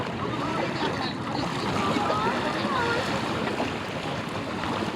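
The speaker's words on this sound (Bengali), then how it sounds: "কত সুন্দর ঢেউ" Waves wash against the bank of the Padma river in a steady, soft rushing murmur mixed with wind buffeting the microphone, continuous throughout without clear voices.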